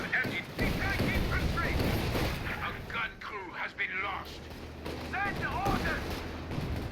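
MG34 machine gun and artillery fire in a Company of Heroes 2 one-versus-one match, rattling bursts and booming impacts mixed throughout while a commentator talks excitedly over the battle.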